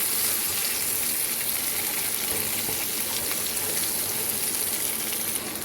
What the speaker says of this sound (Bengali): এবার এই হলুদের কাঁচা গন্ধটা যতক্ষণ না চলে যায় ততক্ষণ কিন্তু আমি আমের টুকরোগুলোকে ভাজতে থাকবো।